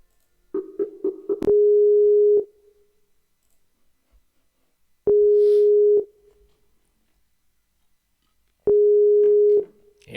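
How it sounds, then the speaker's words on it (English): Outgoing phone call ringback to a podcast guest, three long steady electronic tones separated by silence, preceded by a quick burst of dialing beeps, clear and close with no talking. "Henry, I'm calling you. Answer the phone."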